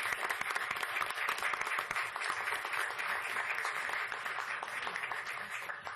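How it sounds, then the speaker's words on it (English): Applause at a Teaneck town council meeting in June 2012 as the Community Relations Advisory Board is introduced. Thick, continuous clapping from a roomful of people runs steadily for several seconds at moderate loudness, with no talk over it. "So let's give them a round of applause."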